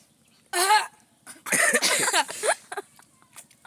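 A few sharp, loud coughs close by, followed by a longer burst of raspy coughing and throat sounds, then quieter trailing noises.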